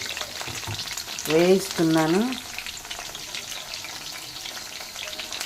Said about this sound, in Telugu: అలా పెట్టి వేయించేసుకోవాలి